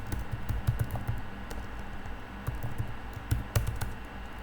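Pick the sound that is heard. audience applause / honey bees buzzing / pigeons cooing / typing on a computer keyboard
typing on a computer keyboard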